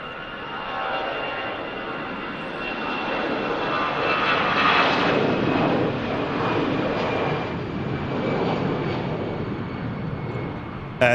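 An EasyJet airliner departs Manchester Airport bound for Paris. Its engines give a loud, steady roar that swells to a peak midway and then holds broad and sustained, with no voices.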